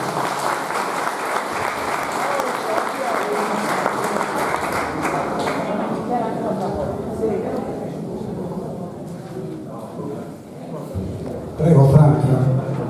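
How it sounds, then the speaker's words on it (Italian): Audience applause at a folk singing event, sustained clapping that starts loud and thins out over several seconds, with a voice and crowd murmur rising near the end. "fatemi un applauso"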